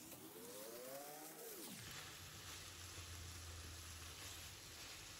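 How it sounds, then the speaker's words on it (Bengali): Raw papaya sizzling in a pan with turmeric, chili powder and salt, a steady close hiss of frying with a soft low hum, no voices. "পেঁপের মধ্যে সামান্য একটু হলুদের গুঁড়া, সামান্য একটু মরিচের গুঁড়া এবং স্বাদ মতো লবণ দিয়ে খুব সুন্দর করে ভেজে নেব"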